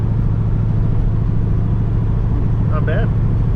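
Car engine rumbling steadily while driving, a low continuous drone close up with a brief rise near the end, and a voice speaking over it.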